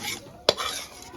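Ladoo mixture being stirred in a large pan, one sharp metallic scrape amid a soft hiss, brief and close, no voices.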